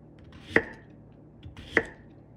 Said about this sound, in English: Chopping this one up here.